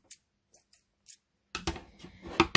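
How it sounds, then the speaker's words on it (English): Scissors snip through yarn while finishing a crocheted mandala coaster, a few close, crisp cuts bunched near the end after quiet light taps. "so I'm just going to cut my yarn"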